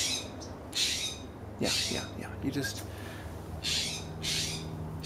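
A bird caught in a cat's mouth gives several loud, harsh squawks in short bursts, spread across the moment, while someone speaks nearby indoors.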